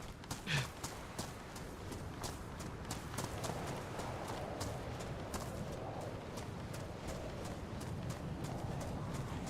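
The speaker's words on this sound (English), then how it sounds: "I hear footsteps" Steady footsteps on the ground in the survival game DayZ, a regular clopping tread that runs the whole time over a constant ambient hiss, moderately close and fairly quiet.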